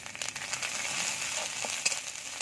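Cumin paste, chili paste and turmeric fry in a pan with a steady, bright sizzle, punctuated by a few soft stirring scrapes, close and moderately quiet with no talking.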